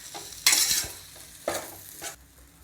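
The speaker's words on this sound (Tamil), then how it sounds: "நல்லா கிளறி விடுங்க." Idli upma masala is stirred in a hot pan, with three loud scraping sweeps of the spoon over a soft sizzle, close by and with no voices.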